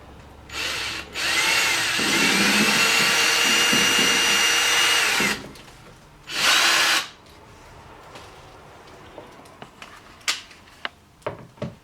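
A power drill runs in a long steady whir to tighten screws holding a new range hood vent in place over a stove and oven, followed by a second short burst and then a few light clicks and taps.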